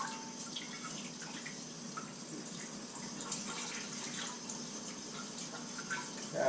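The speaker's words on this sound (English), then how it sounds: "Find that baby bath water temperature again for rinsing." Tap water runs steadily at a low, even level while eggs are rinsed in barely warm water during an Arctic storm, a continuous faint splashing with no talk over it.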